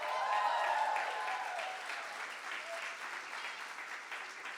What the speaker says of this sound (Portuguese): E eu não sei porque só metade da igreja aplaudiu